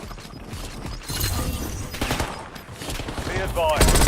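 Rapid bursts of gunfire in a shooter video game, sharp cracks and automatic volleys in quick clusters, loud and close, with mechanical clicks and game radio chatter mixed in.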